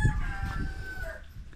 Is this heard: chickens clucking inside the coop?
yes